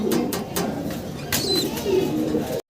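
Soft, low coos of fancy pigeons repeat close by, mixed with a few sharp flutters and clicks.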